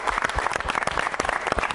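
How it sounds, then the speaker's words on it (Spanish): Young football players and adults applaud youth soccer champions of an under-13 tournament, a dense, lively burst of clapping filling the room with close, uneven claps throughout. "vamos a darnos un aplauso, ¿no, jóvenes?"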